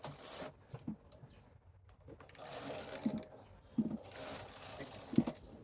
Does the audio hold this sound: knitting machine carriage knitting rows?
yes